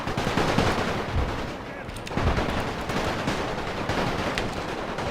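Rifle fire crackles almost without a break across a World War I battlefield in Napoleon Total War, with many overlapping shots forming a dense crossfire at a steady loud level.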